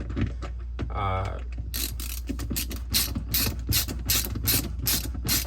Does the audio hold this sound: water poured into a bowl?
no